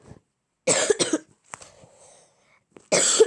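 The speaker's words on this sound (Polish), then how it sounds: "Przepraszam za kaszel, ale jestem chory." Harsh, close coughs come in a couple of bursts, with a softer throaty sound between them.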